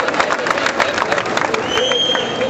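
Crowd applause and cheering at an Indian public ceremony honouring a Padma Shri–winning Dronacharya awardee, a steady dense roar of clapping throughout, with a sustained whistle or tone entering near the end.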